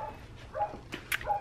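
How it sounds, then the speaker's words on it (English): Several dogs bark and yip at a distance in short, scattered bursts, faint over quiet indoor background noise. "by the sound of the dogs, I think they are here"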